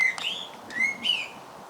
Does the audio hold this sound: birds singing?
yes